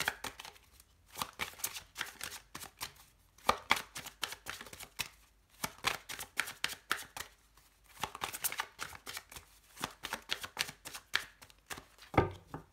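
A deck of cards being cut and shuffled for a tarot-style reading, giving repeated bursts of crisp riffling and snapping that come in clusters with short pauses, close and fairly quiet, with no talking.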